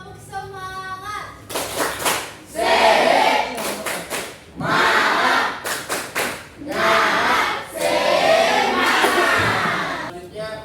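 Classroom of students in a teaching practice lesson performing a rhythmic group clap chant, bursts of clapping and shouted voices in regular phrases after a leader's cue, loud and near.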